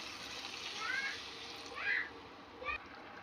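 Water is poured into a pan of spicy Bengali red fish curry (lailontika fish jhal) as the masala oil separates, a soft steady splashing hiss with a few brief louder surges, and no voices.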